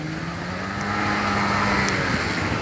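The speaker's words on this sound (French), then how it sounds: "tiens, un motard" A motorcycle passes through Paris street traffic, a steady engine drone that swells slightly as it goes by, heard alone in the street without talk.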